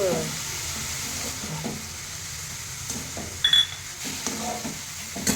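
Crushed peanuts, ground chili and dill leaves fry in a pan for a village-style dill curry, a steady soft sizzle with occasional stirring scrapes and clinks, close and fairly quiet, no talking.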